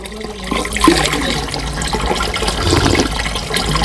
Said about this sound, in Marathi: बांधकामामधून हे पाणी बाहेर येत आहे.